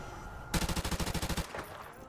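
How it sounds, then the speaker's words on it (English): Rapid burst of AK-74 automatic fire in a competitive Search and Destroy shooter match, about a dozen evenly spaced loud shots over one second, followed by a fading tail. "Did you just shoot with AK-74?"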